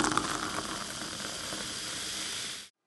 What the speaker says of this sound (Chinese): 倒水的声音。